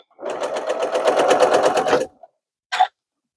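A sewing machine stitches a quilt block seam in a fast, steady run of needle strokes for about two seconds, stops, then gives one short final burst, close and loud.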